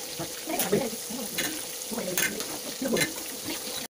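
Fish sizzling as it fries in hot oil in a pan, a steady close crackle with scattered sharp pops throughout, under faint background noise.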